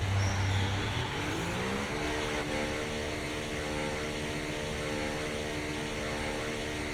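Race car engine in the F1 24 video game at the Saudi Arabia track, a steady droning whine that rises in pitch early on and then holds at a high, even note, alone without talk.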